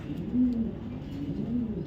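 ARPCD club racing pigeons, race-chipped 2023 birds, coo softly and continuously in low, rolling, throaty murmurs close by, with no talk over them.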